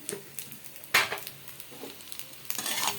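Food seasoned with garam masala and salt frying in a pan while being stirred, with a continuous sizzle, close scraping strokes and one sharp clatter of utensil against the pan.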